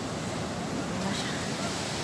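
Strong waves on a beach in San Felipe, Zambales, a continuous, dense rushing wash with wind noise on the microphone, steady and fairly close, with no distinct individual breaks.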